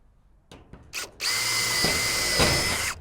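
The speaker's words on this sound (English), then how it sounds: "Drill your other hole." A power drill bores a screw hole to fix a pad bolt hasp on an Absco steel garden shed, opening with a few short trigger bursts before settling into a steady, close, high whine that runs for nearly two seconds.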